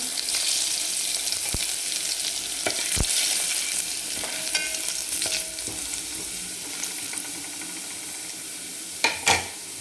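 Asafoetida and grated garlic sizzle steadily in hot oil while tempering kadhi, a continuous bright crackle with a few sharp stir or utensil knocks, and a louder clatter near the end.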